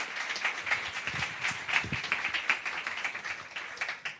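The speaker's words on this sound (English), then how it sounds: "a big round of applause to all of our wonderful audience" Faint applause from an evening audience at a mentoring event, a soft, steady patter of clapping that continues throughout without a break.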